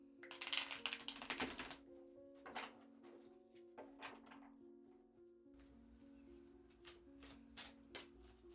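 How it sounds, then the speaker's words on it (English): Tarot cards shuffled by hand at close range in a quiet ASMR setting, giving bursts of crisp riffling and soft slapping, loudest at the start and then recurring in shorter, scattered flurries. "I'm just going to shuffle the cards"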